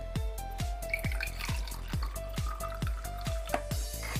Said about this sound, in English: now we're going to get rid of the excess water